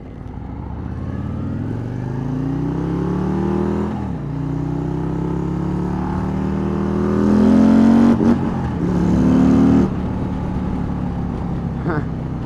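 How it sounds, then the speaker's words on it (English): A 2024 Harley-Davidson Street Glide motorcycle engine revs while riding, a loud throbbing V-twin drone with repeated rises in pitch as it accelerates and shifts, wind rushing past and a rider talking over it. "I keep hitting the RPM rev limiter on these bikes because it's so low"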